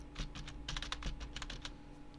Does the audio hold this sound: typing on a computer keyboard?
yes